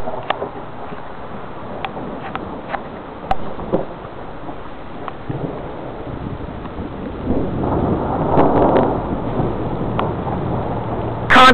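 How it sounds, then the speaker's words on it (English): Deep, continuous rumbling thunder rolls through a tornadic thunderstorm, swelling and fading with gusty wind buffeting the microphone and a few sharp cracks, fairly loud and unbroken, with no voices. "Constant thunder."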